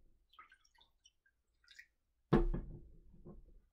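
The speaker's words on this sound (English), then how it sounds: "take your bowl and put some water in there" Water poured from a container into a bowl for a rain cloud experiment, one sudden splashing pour that tails off into drips and trickles, close by after a quiet stretch with faint small clicks.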